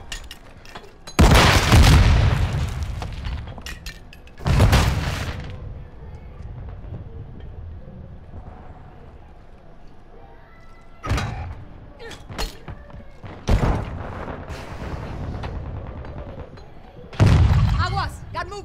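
Several loud booming blasts from a detonated charge in Call of Duty MW2 search and destroy, heavy bursts separated by quieter gaps, with voices talking between them.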